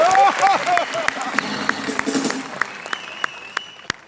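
Large comedy-event audience at a radio show gathering in Ahmedabad bursts into dense, steady applause that thins to scattered individual claps, with a voice speaking over the opening.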